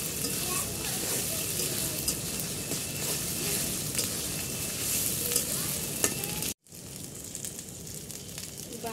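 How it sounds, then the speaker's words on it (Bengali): Ground ginger and cumin paste frying in a pan for a beef tripe curry, with a loud, continuous sizzle and scraping stirs, briefly cut off before the frying resumes. "এখন আদা বাটা দিয়ে দিব, জিরা বাটা দিয়ে দিব, এখন এগুলো অল্প করে ভেজে নেব"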